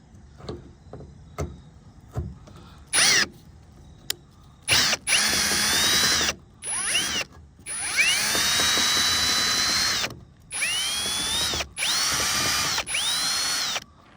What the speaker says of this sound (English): About to put this on the drill and then take it out.